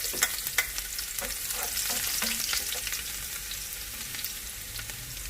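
Steady crackling sizzle of chopped garlic frying in hot oil for a dal tempering, with occasional stirring clinks and scrapes, close and continuous.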